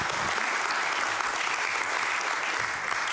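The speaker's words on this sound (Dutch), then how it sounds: "Een applaus." An audience at a talk on timber construction and sustainable forest management applauds, a steady, dense wash of clapping from many hands throughout.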